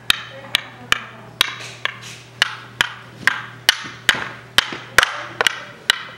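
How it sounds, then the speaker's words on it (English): A child strikes a toy again and again with a toy hammer, making a steady run of about a dozen sharp taps at a regular beat, with a faint background hum and a little quiet talk. "Are you gonna hammer those?"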